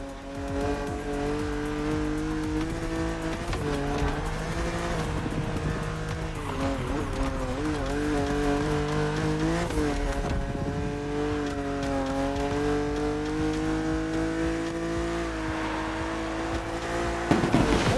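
A BMW car drives on open roads, its engine droning steadily with pitch shifts as it accelerates and changes gear, mixed with tire squeal, loud and continuous throughout.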